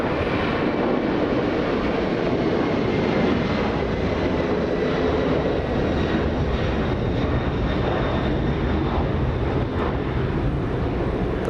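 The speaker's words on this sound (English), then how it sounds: "CF6, 4 CF6 engines powering this 747, flying to Xiamen." A Boeing 747 cargo jet with four CF6 engines roars past at an airport, its engine noise loud and continuous with a broad rushing tone.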